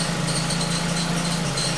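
A Ford Focus engine idles after a misfire repair, a steady, even mid-pitched hum with a light rattle, heard up close and alone with no speech.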